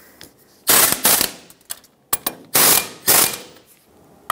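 A ratchet drives the brake caliper bolts on a 1996-2002 Toyota 4Runner during wheel seal replacement, with rapid bursts of loud metallic clicking in several separate runs and short pauses between them.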